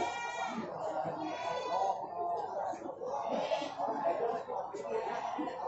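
Ordinary male Javanese goats bleating at the Bandar goat market in Batang, several wavering, harmonic-rich calls repeating close by over a few seconds, with market voices and chatter underneath.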